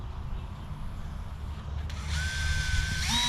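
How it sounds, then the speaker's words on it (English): A power drill whines up and bites into heavy-duty 3/4-inch plastic pipe, its pitch rising and then dropping, close by over a low steady background rumble. "So I'm going to drill it first"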